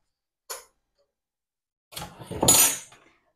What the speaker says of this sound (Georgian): და შეგვიძლია უკვე ტაფა დავადგათ